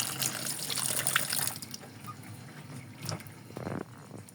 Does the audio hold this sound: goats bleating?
no